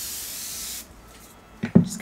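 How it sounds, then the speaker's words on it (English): Evian facial water spray misting a face, a steady close hiss lasting under a second, followed by quiet and a couple of soft handling sounds. "I'm going to go into my Evian spray"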